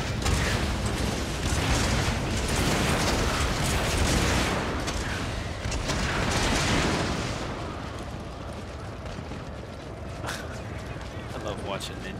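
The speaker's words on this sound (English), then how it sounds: "hopefully we can get another shot of all these ninjas making people explode" Ninja bombs explode among troops in a Total War: Shogun 2 battle, booming and rumbling loudly in a dense, continuous wash of battle noise with a commentator talking over it.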